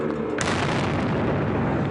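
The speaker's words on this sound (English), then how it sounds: "Cameras were rolling when at least 2 violent explosions erupted near the main grandstand of the Boston Marathon." A bomb blast at the Boston Marathon finish line erupts suddenly as a loud boom, then a dense rumbling wash of noise and echo rolls on without a break.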